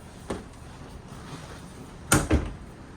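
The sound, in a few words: RV cabinet drawers opening and closing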